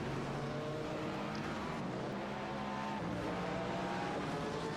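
Cadillac and Porsche endurance race cars battling wheel to wheel at Monza, a steady loud engine roar with shifting pitch as they hold speed, broadcast sound without talk.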